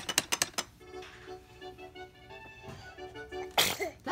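A single sharp sneeze bursts out near the end, following a few quick knocks at the start and a stretch of murmured background chatter at a Christmas gathering.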